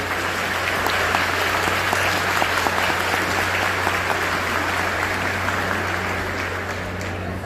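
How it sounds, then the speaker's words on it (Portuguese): Dense, sustained applause from a church congregation, steady and loud for the whole stretch with no voices over it. "Palmas para Jesus, por favor."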